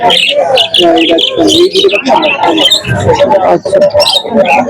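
Adult budgerigars chirp busily in a bird shop, a dense, loud chorus of overlapping tweets and chatter from many birds close by.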